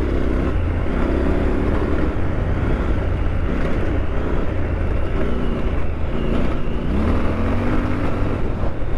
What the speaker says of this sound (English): I can give it the beans and I can actually ride the bike in the dirt